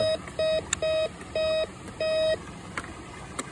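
A metal detector swept over a riverbed gives a run of short, clean electronic beeps at an uneven pace, some longer than others, and then stops, leaving faint background noise.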